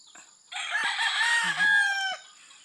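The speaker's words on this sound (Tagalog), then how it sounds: "Yun ang maririnig mo pagkagising mo. Mga tilaok ng manok." A single rooster crows once on a farm, a clear, fairly close cock-a-doodle-doo lasting about two seconds against a quiet background.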